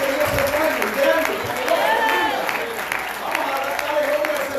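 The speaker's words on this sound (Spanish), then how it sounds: "Den un fuerte aplauso al Señor en esta linda noche" A church congregation claps steadily during an evening service, loud and sustained, with voices calling out over the applause.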